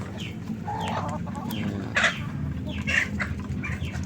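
Hens on a small farm cluck in soft, repeated bursts, a few sharper calls standing out over a steady flock murmur close by.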